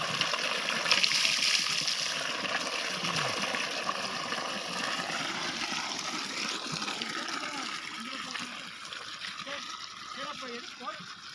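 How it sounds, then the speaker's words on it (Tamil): Water flows steadily from two pipes, producing a continuous rushing, splashing hiss that holds for the whole stretch, with faint voices underneath. "தண்ணி ஓடி பார்த்தங்க, நல்லபடியாக தண்ணி ஓடுது."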